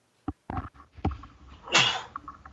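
A single sharp sneeze after a few short breaths and sniffs, close and fairly loud in a quiet room.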